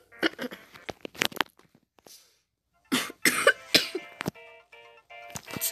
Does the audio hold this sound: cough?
yes